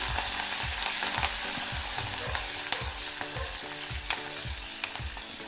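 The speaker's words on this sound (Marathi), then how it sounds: "दोन हिरव्या मिरच्या कट करून घेतलेल्या आहेत त्या टाकून घ्यायच्या आहेत पाच ते सहा कढीपत्त्याची पाने टाकून घ्यायची आहेत व त्याला चांगले परतून घ्यायचे आहे" Green chillies and curry leaves sautéing in hot oil for kadhi: a steady sizzle and fry, broken by a regular run of spoon strokes scraping the pan, close and alone with no talk.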